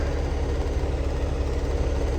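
A car engine idles with a steady, low rumbling hum and slight vibration, close by and unchanging throughout.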